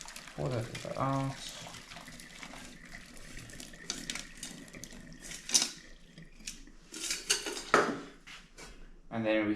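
Water poured out of a pot after washing bicycle chains, splashing and running into a sink amid clinks of metal dishware, with a voice talking over the splashes.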